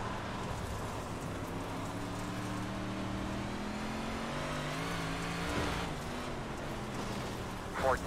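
A race car on a dirt oval at Cedar Lake drones steadily with engine harmonics rising and falling through acceleration, heard continuously from onboard under light radio chatter, with a brief whine near the end.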